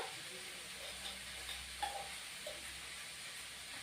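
Bathua greens being sautéed and stirred in a pan give off a soft, steady sizzle and hiss throughout, with a couple of brief utensil clinks near the middle and no talking.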